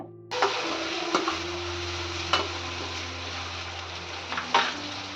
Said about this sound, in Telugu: ఆనియన్స్ ఫ్రై అయిన తర్వాత టమాటోస్ వేసి ఫ్రై చేస్తున్నా